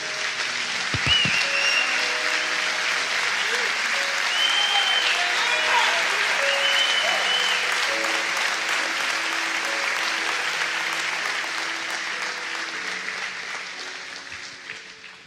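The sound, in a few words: church congregation applauding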